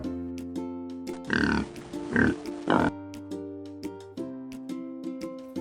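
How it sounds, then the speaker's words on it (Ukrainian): Three short pig grunts in quick succession over a soft musical backing, moderately loud and close, as in a children's lesson about farm animals. "Так, це свинка. Вона каже Хрю, хрю, хрю, хрю."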